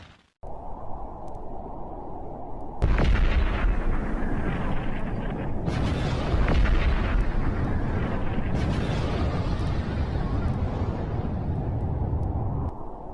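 A huge wartime explosion wrecks a dock on the English Channel coast, heard as a loud, dense, continuous roar that swells after a quieter start and rumbles on for over ten seconds.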